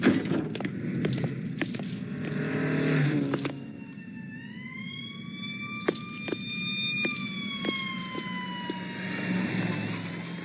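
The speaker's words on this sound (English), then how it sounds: "I think I hear sirens." Sirens wail with rising and falling tones in the video game Murdered: Soul Suspect, rather distant, mixed with scattered metallic clinks and clatter.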